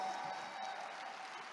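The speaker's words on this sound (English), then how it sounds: "Can we give Reway a round of applause today?" Audience applause for Reway International at a leadership training session, a dense, steady wash of many hands clapping throughout, moderately loud and without talk.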